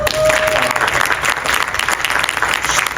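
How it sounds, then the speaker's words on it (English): An audience at a direct sales business talk breaks into brief, lively applause, a dense wash of many hands clapping at steady volume throughout. "Give TOP a round of applause for this."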